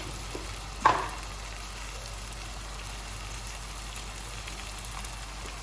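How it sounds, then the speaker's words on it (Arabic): Onions with small diced pieces fry steadily in a pan, a soft, continuous sizzle close by with a single louder clatter near the start and no voices. "نحطها مع البصل قلا، ندير لها الملح"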